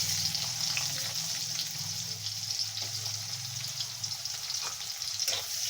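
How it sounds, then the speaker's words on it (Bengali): Onions frying in hot oil with black cumin, a steady broad sizzle running unbroken throughout, with occasional faint stirring clicks and scrapes in the pan. "পেঁয়াজটাকে দিয়ে ভালো করে নেড়ে চেড়ে নেব।"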